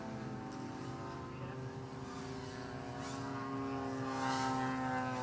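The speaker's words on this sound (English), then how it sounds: "it is quite intimidating to hear all these model planes flying around us as we do this" Radio-controlled model planes drone overhead at an air show, a steady, sustained propeller and engine whine with rising pitch that swells louder toward the end, with faint voices underneath.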